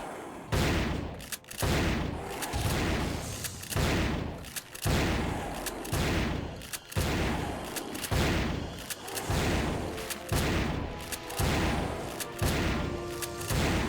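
Gunfire in the video game Turok 3 sounds as loud, booming shots repeating about once a second in a continuous barrage.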